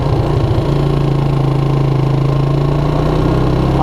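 A Suzuki Quadrunner LT230E ATV engine, built up as a flat track racer on small tires, idles steadily and close by with an even, throbbing mid-pitched hum and a brief blip near the start.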